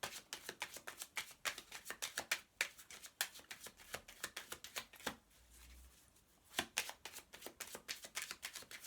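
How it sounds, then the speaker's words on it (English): Rapid crisp shuffling of tarot cards, close and fairly quiet, in quick bursts of riffling and tapping with a brief pause midway. "Last shuffle."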